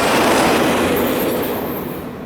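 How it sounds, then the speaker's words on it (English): A CSX southbound ballast train led by an SD50-2 locomotive rumbles past loud and close, a dense roar of wheels and cars that eases slightly as it goes. "The signals were for the southbound Okeechobee-bound ballast train, led by 8641, which is a boxcar logo SD50-2."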